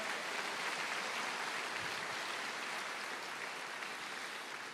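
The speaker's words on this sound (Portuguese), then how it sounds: "Você pode dar uma salva de palmas?" A church congregation claps together during a sermon, a dense, steady wash of many hands that holds at an even level throughout, with no voices over it.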